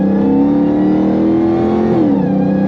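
An 800+ horsepower Dodge Charger Hellcat on a highway at night pulls hard, a loud close engine roar climbing in pitch, then briefly dipping as it shifts and climbs again.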